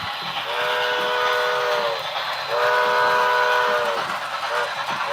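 A small model train rolls along steadily with a constant mechanical rumble, its whistle sounding in two long, sustained toots with a brief gap between.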